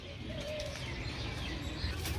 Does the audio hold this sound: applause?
no